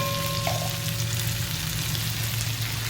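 Herbs, dried coriander, mint and green chilies mixed in a hot cooking pan, a low continuous sizzle with soft stirring, steady and close, with no voices.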